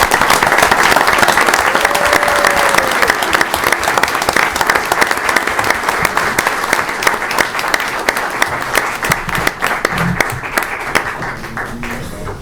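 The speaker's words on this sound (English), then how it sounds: "Nice round of applause for them." Loud, sustained applause from an audience at a village board meeting, dense clapping filling the room close by, with a few voices faintly under it as it tapers slightly toward the end.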